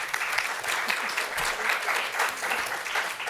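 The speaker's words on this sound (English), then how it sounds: "if we can do a round of applause for them" Sustained audience applause for a panel of speakers at a water quality stewardship session, a steady even wash of clapping from a room full of people with no voices over it.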